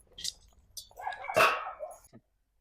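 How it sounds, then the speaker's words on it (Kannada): At a farm home, a dog gives a short burst of sharp, close barks amid quiet surroundings, with a brief voice-like sound nearby. "ಯಾರೇ ಬಂದ್ರ ಬಗಳತದ ನಾಯಿ"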